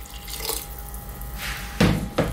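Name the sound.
splash of liquid poured into lamb stew in pressure cooker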